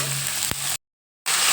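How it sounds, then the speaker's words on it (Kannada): Vegetables fry with turmeric powder in a pan, giving a close, steady hiss and sizzle that breaks off briefly to silence before resuming. "ಅರಿಶಿನ ಪುಡಿ ಹಾಕ್ಕೊಂಡು ನೀಟಾಗಿ ಫ್ರೈ ಮಾಡ್ಕೊಬೇಕು"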